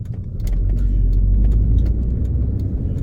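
A turbocharged Audi TT Mk1 drives along with a steady, loud low engine rumble and road noise from inside the car, a few light rattles above it and no voices.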